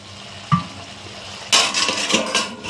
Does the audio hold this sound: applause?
no